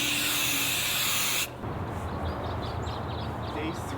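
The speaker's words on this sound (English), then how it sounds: "we're using the same stuff we used for attaching the insulation, the high strength 3M 90 spray adhesive" 3M 90 high-strength spray adhesive hisses out of an aerosol can in one steady, fairly loud burst that stops abruptly partway through, leaving quiet room tone behind.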